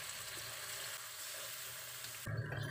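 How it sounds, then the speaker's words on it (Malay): Tamarind water poured into a hot pan of cooked chilli paste for Malay fish in tamarind sauce, a steady sizzle ending in a sudden louder splash and bubbling. "Masukkan air asam jawa tu."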